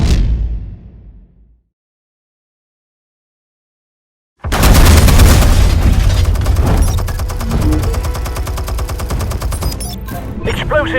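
Explosives detonate in a Batman video game: after a brief decaying tail and several seconds of silence, a loud, dense burst of blasts and crackling gunfire-like impacts erupts and rumbles on continuously to the end.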